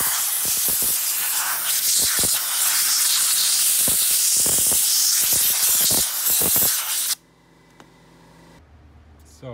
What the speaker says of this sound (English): I'm gonna use the same air thing to spray it. Just make sure there is no metal particles or some dirt.